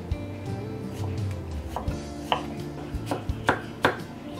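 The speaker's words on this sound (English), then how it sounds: "Peel watermelon skin. Cut to thin slice." A knife slicing peeled watermelon skin into thin pieces on a cutting board, a series of crisp, close chopping knocks that come more quickly and sharply toward the end, with no talk.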